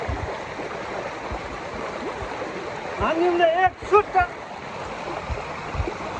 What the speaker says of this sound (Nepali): यहाँनिर चाहिँ टक्क पछाडि सानसानो खोला बगिरहेको छ